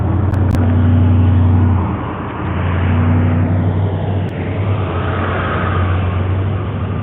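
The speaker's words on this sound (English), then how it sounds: "Here come the traffic." Road traffic rolls past a roadside stand, a steady loud engine rumble and tire roar with a low droning tone, swelling and easing as vehicles go by, close and continuous.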